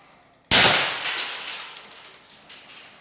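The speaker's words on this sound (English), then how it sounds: "This is the single barrel launcher with the modified barrel on it." A single-barrel 40mm launcher with a modified barrel fires one sharp, loud blast after a moment of quiet. The shot is followed by a rattling, decaying tail of debris and echo.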